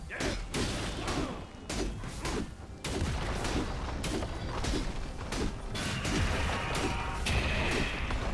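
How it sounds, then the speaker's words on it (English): A League of Legends turret collapses amid crashing, clattering destruction and gunfire-like bursts, a loud continuous barrage of impacts and mechanical rattles in dense game combat. "Team's turret has been destroyed."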